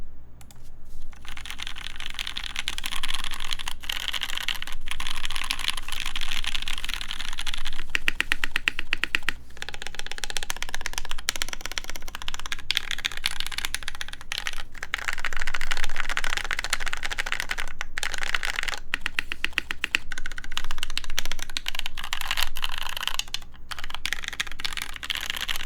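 Continuous typing on a Moon TKL mechanical keyboard fitted with switch dampeners: dense, rapid clacky keystrokes close to the mic, with brief pauses between bursts and a low steady hum underneath.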